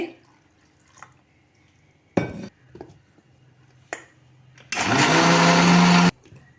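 A mixer grinder blending raw mango without water whirs loudly for about a second and a half, a steady close-up blending roar after a few quieter clicks and bumps.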